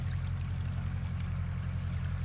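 Water trickles and streams steadily through a frozen farm pasture in Ohio below freezing, a continuous close flowing wash with a low rumbling undertone and no talking.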